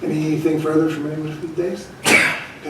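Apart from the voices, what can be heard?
sneeze in a meeting room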